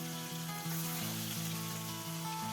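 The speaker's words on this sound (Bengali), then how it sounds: "প্রথমে দুটো মাছ আমি কড়ার তেলের মধ্যে দিয়ে দিলাম।" Rohu fish steaks sizzling in hot oil in a wok, a steady loud frying hiss with crackle running throughout, with no voices over it.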